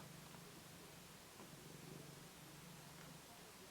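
Soft, faint purring of a domestic cat close by, a continuous low rumbling that holds steady with no talking over it.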